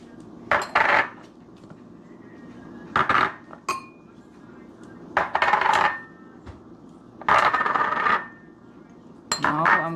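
Jamaican fish seasonings, including Grace fish seasoning, being mixed together in a bowl, giving several bursts of scraping and clinking against the bowl separated by short pauses.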